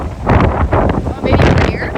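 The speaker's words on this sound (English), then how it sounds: "the storm is just peaking in Penasco now, with sustained winds in the 40s and 50-knot gusts" Hurricane-force storm winds with gusts near 50 knots roar across a sailboat at anchor during Hurricane Hilary, a constant loud rush with surging gusts and heavy microphone buffeting throughout.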